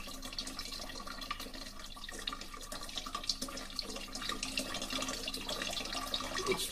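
Water runs steadily through a replica of an ancient Greek clepsydra water clock built from Ctesibius's design, a continuous close trickling and splashing like a tap filling a reservoir, with no voices.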